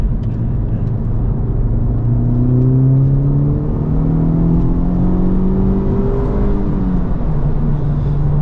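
A 2023 Honda Civic Type R engine on a track hot lap, heard from inside the car as a loud, continuous drone that climbs repeatedly as the car pulls through the gears.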